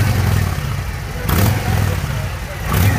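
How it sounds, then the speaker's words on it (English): A 2017 Harley-Davidson Street Glide with a Milwaukee-Eight engine, or an Indian Roadmaster, idling loudly close up and rising in two short throttle blips, with some nearby talk. "Flip the throttle."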